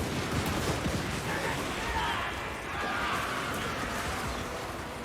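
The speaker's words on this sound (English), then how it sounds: "Right, begin your volley fire." Dwarf Thunderers in Total War: Warhammer 2 let loose a sustained volley of massed gunfire, a dense rolling crackle of overlapping shots that fills the whole stretch with steady battle noise.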